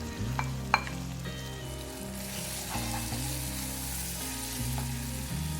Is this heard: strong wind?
no